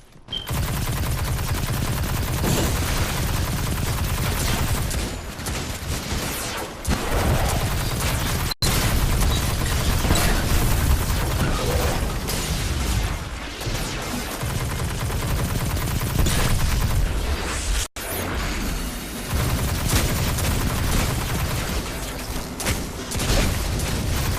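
The Hard Light exotic weapon in Destiny 2 fires in rapid, sustained bursts, loud and nearly continuous, with a couple of brief breaks and no voices.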